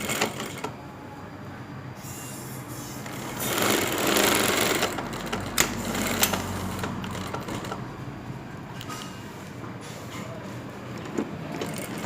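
A sewing machine stitches the waistband of a school skirt, running in a steady mechanical whir that rises and falls over several bursts, close and moderately loud, with a few clicks.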